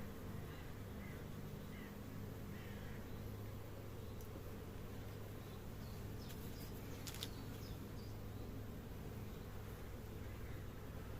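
Honeybee colony humming steadily at an opened hive during a spring inspection, a continuous low drone held evenly throughout with faint insect buzzes passing close by.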